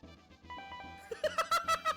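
A little bell chime from the Chrono Trigger video game, like a shop door jingle: a soft tonal melody gives way to a bright run of five quick, rhythmic ringing dings.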